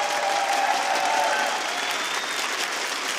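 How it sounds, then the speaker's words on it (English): A large live crowd at the Rainbow Six Siege Invitational esports event claps for two game designers walking on stage. Thick, steady applause stays loud throughout the short stretch. "Please give a big round of applause to Amelia and Simon"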